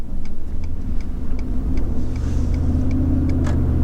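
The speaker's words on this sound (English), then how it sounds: "Even acceleration back up to speed." Car accelerating evenly back up to speed on a road: a steady low engine and road rumble from inside the cabin, with a soft regular ticking, like a turn signal, clicking over it.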